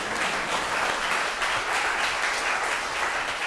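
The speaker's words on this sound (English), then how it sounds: "You can clap, I agree." A church or parish talk audience bursts into sustained applause, dense steady clapping from many hands filling the room at even loudness throughout.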